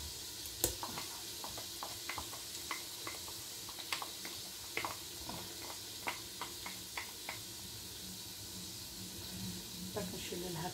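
Crushed garlic frying in a pan, a steady soft sizzle with scattered small pops and clicks throughout.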